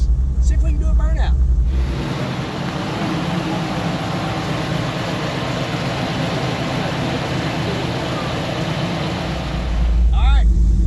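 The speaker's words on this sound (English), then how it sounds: "See if we can do a burnout." A car holds a long, loud, steady roar of engine and spinning tyres during a burnout, with rough noise building over several seconds and brief louder engine bursts at the start and end.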